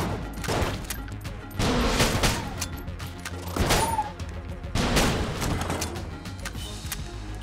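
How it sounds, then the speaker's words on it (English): The Stinger weapon in the bullet-hell game Enter the Gungeon fires in repeated bursts of cracking shots with brief pauses, layered over constant game sound effects and music. "Stinger. This is a great gun."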